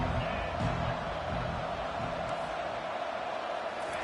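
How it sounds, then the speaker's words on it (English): Steady roar of a stadium crowd cheering on third down in the NCAA 25 college football video game, a dense continuous wash of noise with faint game sounds underneath. "the crowd is getting into it early here on 3rd and 10"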